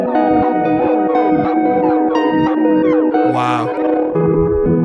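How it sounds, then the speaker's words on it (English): Swelling guitar notes from a Meris LVX or MercuryX pedal, reversed attacks that fade in rather than strike, layered with warped, echoing tones in a steady, loud stream. "the reverse effects are incredible."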